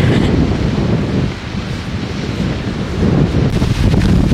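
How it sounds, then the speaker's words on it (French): Strong wind buffeting close to the microphone on a trek through Scotland, a loud, rumbling roar that dips briefly then gusts back up, with no one speaking. "Le vent se lève doucement."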